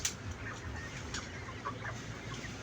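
Laying hens cluck inside a bamboo-cage layer farm of about 2,500 birds. Scattered short clucks and calls rise over a soft, constant flock murmur with some moderate background noise.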